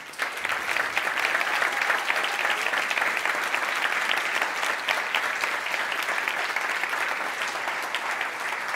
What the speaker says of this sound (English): I'd like people to clap